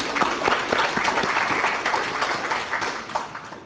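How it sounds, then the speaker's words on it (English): An audience claps for a student named Sierra at a meeting, a lively burst of many hands with sharp individual claps standing out, fairly close and gradually thinning toward the end. "Please clap it up for her."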